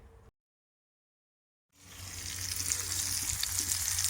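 Sweetbreads sizzle on a barbecue grill with the grates half open, a steady crackling hiss that starts after a moment of silence and grows louder and denser, close up with no talking.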